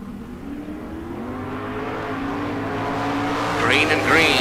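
Drag race cars, including a 1968 Mustang GT, launching down the strip at bracket races, engines droning and rising in pitch as they accelerate away, with a commentator talking over the roar.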